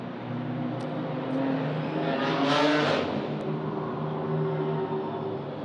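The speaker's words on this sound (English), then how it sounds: "we have cars on track behind the safety car" GT4 race cars circulate behind a safety car on the Macau street circuit, a steady engine drone swelling as one car passes close by midway, then settling back to a constant hum.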